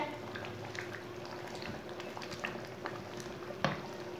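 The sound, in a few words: masoor dal with potatoes simmering while stirred with spoon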